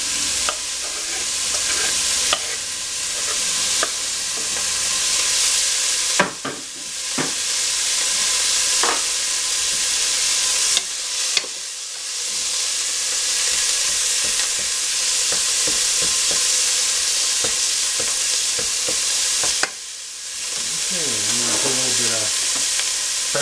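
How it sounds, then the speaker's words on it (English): Minced garlic sizzles steadily in melting butter in a hot pan, a loud continuous frying hiss broken by a few stirring scrapes, with no talking. "Slip that garlic in there."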